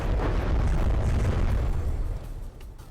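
A large explosion in the naval combat game From the Depths, a loud, dense rumbling roar that fills the whole moment and slowly starts to fade, with no voices over it.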